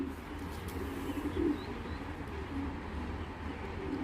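Low, soft cooing from foreign-breed pigeons, a steady murmuring drone with one slightly louder coo near the middle, heard close by with no voices.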